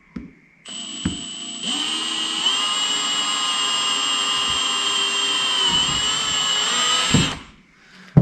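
A power drill bores a small guide hole straight down into the middle of a DIY camera rig base, giving one close, loud, steady whine that runs about six and a half seconds before stopping, with no talking.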